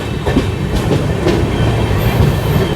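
From aboard the Nagavali Superfast Express, a loud, continuous rumble of rolling wheels carries faint clickety-clack beats and a thin squeal near the end.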